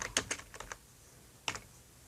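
Close, crisp typing on a computer keyboard while entering text into an online freelancing gig form, in quick bursts of clicks with short pauses and a lone final cluster of keystrokes, with no talking.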